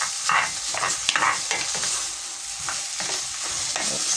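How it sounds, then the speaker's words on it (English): Egg stew mixture stirred in a pan, with scraping spoon strokes in an uneven rhythm over a soft, continuous sizzle, close and fairly loud with no talking. "Be sure to mix so that everything incorporates together."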